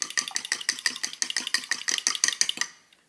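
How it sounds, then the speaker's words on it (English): Egg yolks and heavy cream whisked in a bowl, with quick, even metallic clicks repeating about five times a second, close and crisp, stopping abruptly near the end. "I'm just giving that a whisk to combine it all together here"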